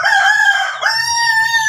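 A Filipino chicken of a fairly wild, untamed breed crows loudly and close by in two drawn-out calls, alone with no talk.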